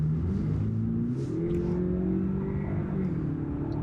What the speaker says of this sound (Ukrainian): Ми чуємо мотор, мотор переключається на вищих передачах